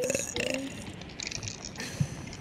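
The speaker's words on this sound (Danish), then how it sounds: "Er det ikke en god bøvse?" A loud, close burp bursts out amid the noisy chatter and clatter of a casual Fortnite gaming session, with voices talking around it.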